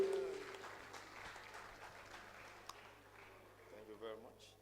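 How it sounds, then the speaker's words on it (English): Conference audience at a real estate event clapping, a soft, somewhat distant wash of applause that fades gradually, with a voice talking over it. "Please a round of applause for him."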